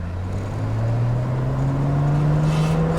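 A Nissan Skyline GT-R R32 engine at a JDM show revs steadily, its pitch rising smoothly from low to higher across the stretch, loud and close with no talk over it.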